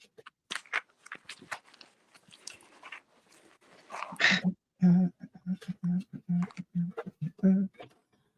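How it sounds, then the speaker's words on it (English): Several dogs bark in a rapid repeated series nearby, following a stretch of people talking. "No, they're all barking."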